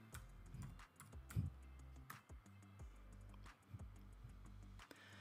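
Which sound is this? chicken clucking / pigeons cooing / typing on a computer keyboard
typing on a computer keyboard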